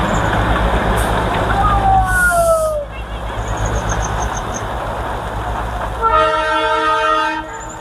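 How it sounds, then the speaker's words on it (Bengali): A diesel Darjeeling toy train rumbles past close by at Batasia Loop with a steady heavy engine drone, then sounds a loud sustained horn blast near the end. "আর এটা কিন্তু যেটা গেল এক্ষুনি সেটা ডিজেলের"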